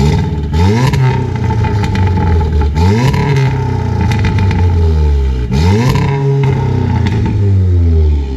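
Loud, close exhaust of a VW Golf R in sport mode with the exhaust valves open, revved repeatedly in bursts that rise and fall over a raspy, rumbling idle, with no talking.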